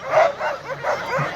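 Dogs bark and yip in quick excited bursts near the start of the 35th Copper Basin 300 sled dog race in Alaska, a steady run of overlapping yelps and whines with no talk.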